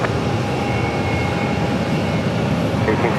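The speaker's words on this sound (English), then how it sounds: "that's going to be Alaska Airlines Flight 928, coming in from Seattle, Boeing 737, and only 2 years of age." Broad, steady roar of an Alaska Airlines Boeing 737, two years old, arriving from Seattle and landing on runway 26 at Phoenix Sky Harbor, loud and continuous with a faint whine on top and no letup.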